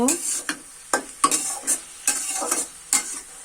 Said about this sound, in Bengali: আমি আবারও শাকটা একটুখানি নেড়ে দিব